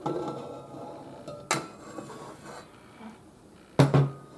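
Bowl and beaters being pulled off a stand mixer, with two sharp metallic clanks and a few smaller knocks and scrapes over a low background hum.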